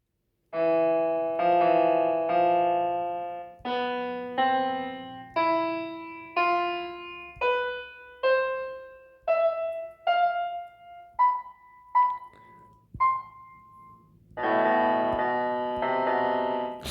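Piano black keys played one after another in small groups of two and three, each chord ringing briefly before the next, rising in pitch, then a fuller chord at the end.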